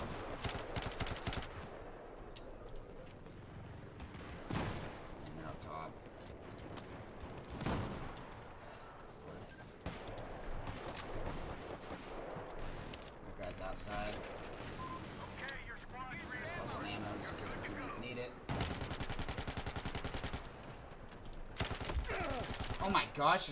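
An LSAT light machine gun in Battlefield 4 fires in rapid sustained bursts, loud automatic rattles broken by short pauses, with someone talking over parts of the shooting.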